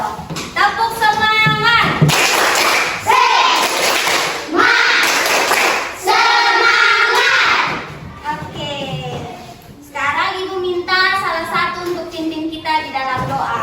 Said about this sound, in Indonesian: Coba tepuk semangat dong.